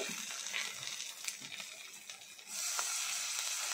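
Water goes into a pan of frying Pangas fish masala gravy, a close sizzle and bubbling that surges into a louder steady hiss as the liquid hits the hot oil, with no talking.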